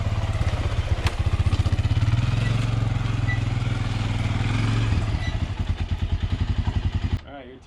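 A small buggy engine being ridden in a large backyard garden putters in a fast, even pulse, close and steady before cutting off near the end, with a voice speaking over it.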